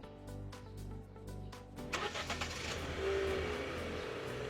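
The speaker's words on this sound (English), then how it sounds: "Let's see if we can start the engine." A 1-liter 3-cylinder turbocharged gasoline car engine starting: a rhythmic cranking of several quick pulses, then the engine catching and settling into a steady, fairly close idle rumble.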